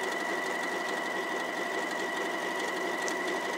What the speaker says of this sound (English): I'm just going to go around the curve badly